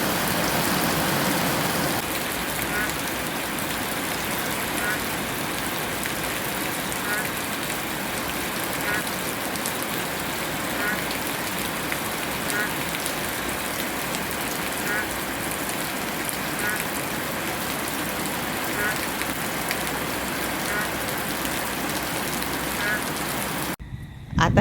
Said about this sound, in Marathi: अजून सुरूच आहे तो पाऊस.